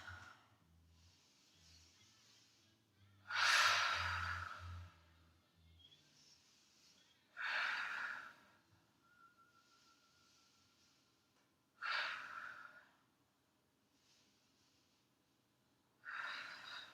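Slow, deep breathing held in a yoga pose: four breathy exhales spaced several seconds apart, close and soft, with faint inhales between them and no talking.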